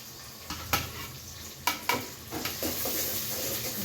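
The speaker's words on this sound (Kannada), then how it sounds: "ಚೆನ್ನಾಗಿ ಕೆಂಪು ಆಗೋ ಥರ ನಾವು ಫ್ರೈ ಮಾಡಬೇಕು" Grated coconut frying in a pan for avarekalu sambar, a steady sizzle broken by several sharp scraping stirs of a spatula, close and moderately loud, with no voice.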